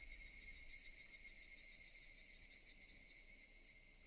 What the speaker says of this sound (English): Only the cry of the cicadas remained